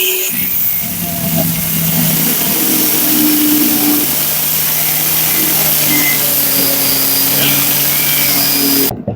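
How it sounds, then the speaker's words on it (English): A grinder cuts through a corroded gearbox part from a semi-automatic washing machine, running loud and continuous for about nine seconds with a steady droning whine before stopping abruptly. "I'm going to cut this one with the grinder"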